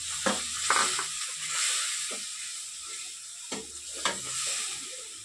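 Spice paste frying in a pan with fried onions for an aloo potol curry, giving a steady soft sizzle and a few sharp scraping stirs, fairly quiet and close, with no talking.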